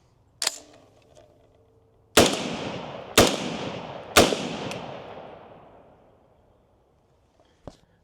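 Four sharp, loud unsuppressed shots from a 300 Blackout rifle firing supersonic ammunition, with a gas block on setting 1, outdoors. The shots come at irregular intervals, each trailing a long echoing decay, then a faint click at the end.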